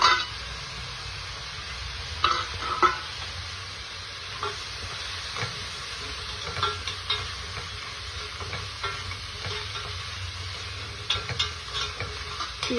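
Crabs cook in oil with turmeric, ginger and garlic, giving a steady low sizzle throughout, with occasional scrapes and clinks of stirring scattered over the frying.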